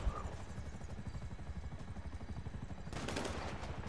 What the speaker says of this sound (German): der Heli hat auf mich geschossen